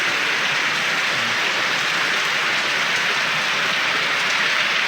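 Heavy rain pours down in a loud, unbroken roar, hammering surfaces nearby with no pauses and no voices, a dense steady downpour throughout.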